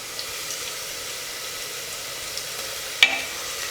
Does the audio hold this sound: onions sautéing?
yes